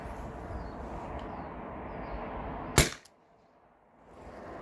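A single sharp shot from a T4E TR68 HPA-powered marker firing a round ball, a loud close crack with a brief ring before near silence, over a steady background hiss.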